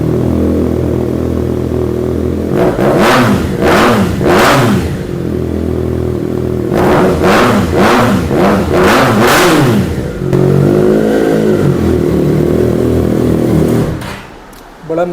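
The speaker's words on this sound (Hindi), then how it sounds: "बड़ा लाउड एकदम। बिल्कुल, ये 3 सिलेंडर सिम्फनी थी" A Triumph three-cylinder superbike engine revs loudly and close in repeated sharp bursts over a steady idle rumble, with a pause between two groups of blips.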